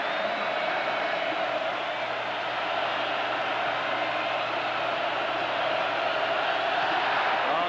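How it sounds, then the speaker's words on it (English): Stadium crowd at a college football game between West Virginia and Penn State in 1984, a steady broad roar of cheering and whooping that swells slightly toward the end, sustained and fairly loud throughout. "Crowd is alive, isn't it?"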